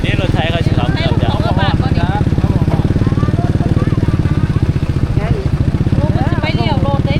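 A farm tractor engine runs close by with a steady, loud, rapid chugging throb that never lets up, while voices talk over it, out on a road after days of flooding.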